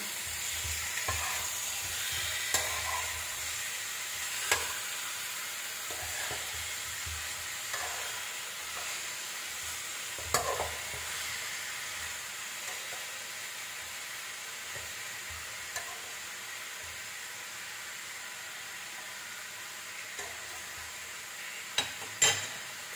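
Chicken pieces fry in a pan for tinola. The sizzle is soft and steady, and occasional light scrapes and taps come from stirring over about twenty seconds, faint and close, with no voices.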